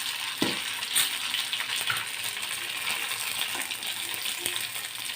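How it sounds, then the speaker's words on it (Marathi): Amaranth flour roasting in ghee in a pan, a soft continuous crackle and sizzle with occasional scraping and light clinks of a utensil against the pan. "आपलं आता आपण राजगिरा भाजून घेऊ."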